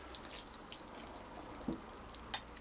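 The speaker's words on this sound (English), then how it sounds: "We're going to put a bit of water on them" Water being poured from a small watering can onto freshly sown vegetable seeds in compost, a soft, faint trickle with occasional drips and splashes, no voices.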